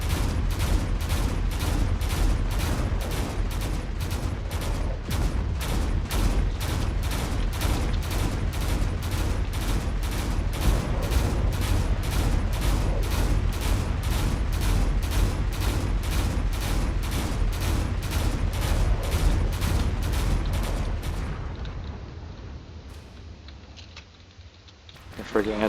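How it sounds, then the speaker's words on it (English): A Corvette warship firing its remaining turrets in the game Drone Wars: a long, steady run of rapid, evenly spaced shots that ends in a fading rumble. Someone talks over the gunfire. "The Corvette here is firing with whatever it's got left."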